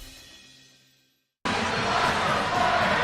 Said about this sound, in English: that crowd right there yelling across the way to Jefferson